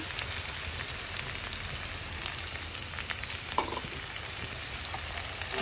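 Potatoes fry in oil in a pan for a lentil chorchori, a steady close sizzle with faint scraping as they are stirred, no voices.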